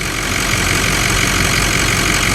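Truck engine idling steadily at close range with a faint jingling that may come from the fan clutch, a continuous even drone with no voices.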